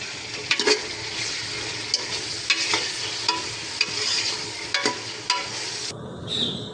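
Beef goes into a pot of lightly fried onions and is stirred, giving a steady, soft sizzle with scattered clinks and scrapes of a spoon against the pot, close and fairly quiet with no talking.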